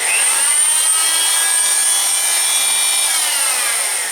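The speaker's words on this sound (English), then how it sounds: "the saw itself is just oscillating very quickly" An oscillating cast saw grinds steadily through a cast in a loud, continuous high-pitched whine with a faint drifting pitch, alone and close.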